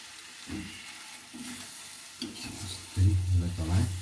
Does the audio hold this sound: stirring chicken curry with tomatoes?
yes